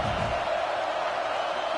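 Stadium crowd noise from a college football video game featuring Arkansas, a steady broad roar of cheering fans with no break, filling the whole short stretch at moderate level.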